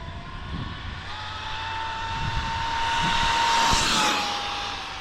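A Traxxas X-Maxx RC truck with 1.5 GPM racing gears runs at full throttle, its electric motor whining in a loud, rising high-pitched scream that swells and peaks near the end.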